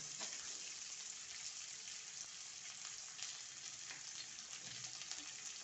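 Ingredients dry-roasting in a pan until pink for a Malvani prawn curry, giving a steady close sizzle with light scraping stirs and occasional crackles, alone without talk.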